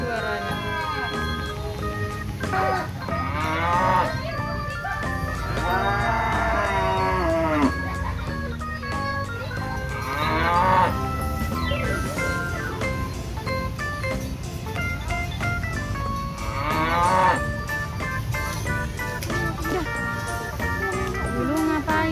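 Cattle low and moo repeatedly, with several drawn-out calls rising and falling at intervals over a steady farmyard background, and other sounds running underneath.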